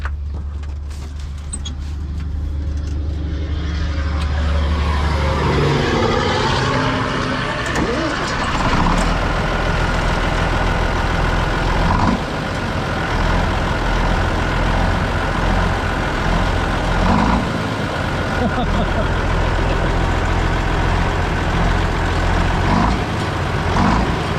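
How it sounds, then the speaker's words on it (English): Steady roar of vehicles on Highway 83 near Scott City passes continuously in the background, a broad rumbling wash of engines and tyres with low idling tones, rising after a quieter start. "you can hear just a little bit of traffic in the background."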